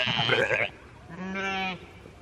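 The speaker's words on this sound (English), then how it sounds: "Are you all sheep? I feel like some of you are goats." Sheep or goats on a farm bleat twice in close succession, a ragged nasal call and then a longer wavering one, near and loud, with no talking during the calls.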